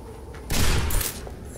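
Gunshot in the Overwatch video game, a single loud burst of blast and rumble arriving abruptly after a quiet moment, then tailing off over about half a second.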